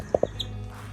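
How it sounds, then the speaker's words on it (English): Baby chickens kept alongside husky dogs give two quick, faint peeps close by, then a softer chirp in a quiet room. "See your baby chickens."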